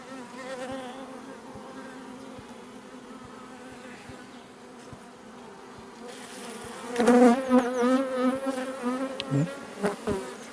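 Honey bees hum steadily from an opened hive colony during queen searching, a dense close buzz that swells louder in the second half with individual bees passing near.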